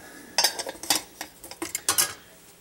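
A Scout-type metal mess kit with a lid-bowl, cookpot and frying pan is handled, giving a string of bright metallic clinks and clatters in quick irregular bursts, close and fairly quiet.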